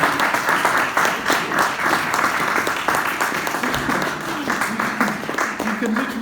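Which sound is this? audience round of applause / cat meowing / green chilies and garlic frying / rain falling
audience round of applause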